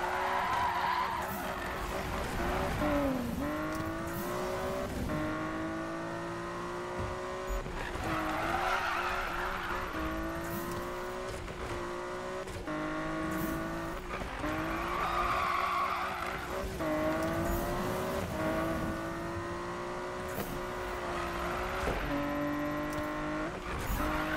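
A Nissan Skyline GTR in Need for Speed drifts repeatedly, its engine revving up and down while the tires squeal in long sustained screeches, several slides one after another over a constant engine drone.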